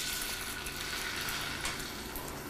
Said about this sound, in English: You can hear that little bit of a sizzle.